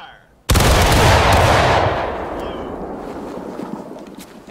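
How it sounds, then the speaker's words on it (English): A company of Civil War muskets fires together in a War of Rights drill, one sharp massed crack followed by a long rolling echo that decays over several seconds, with faint voices in the background. "Firing by company! Company, ready!"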